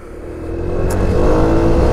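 A carbureted Daytona ADV scooter engine revs up, a loud close mid-pitched drone climbing steadily in pitch and volume over a couple of seconds with no talk.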